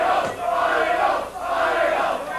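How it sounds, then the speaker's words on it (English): A large crowd of professional wrestling fans cheers and roars at George's in Fridley, a loud continuous swell of voices that dips briefly twice before surging again. "You hear the tremendous crowd here"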